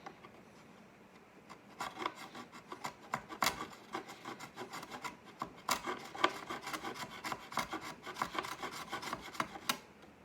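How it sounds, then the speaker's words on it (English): A chisel scraping and paring wood on a mandolin body during repair, a steady run of raspy rubbing strokes that grows busier after the first couple of seconds, close up with no talk. "I'll use a chisel."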